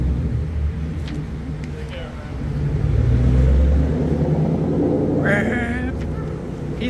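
A vehicle engine runs steadily and loudly nearby, swelling in a low rumbling rev around the middle before settling back, with brief voice-like chatter near the end.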